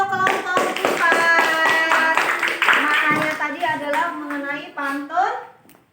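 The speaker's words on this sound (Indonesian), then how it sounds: "tepuk tangan untuk kelompok 4." Children in a classroom clap for a group of classmates, a dense burst of rhythmic hand claps under lively children's voices that thins out and fades toward the end.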